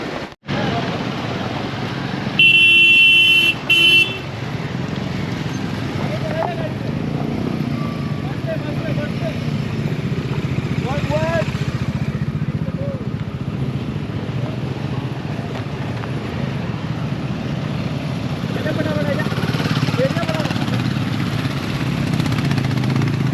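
Traffic jam on a damaged mountain road in Nepal, with cars and motorcycles idling and revving in a steady low engine rumble throughout, a brief horn-like tone early on, and people talking nearby.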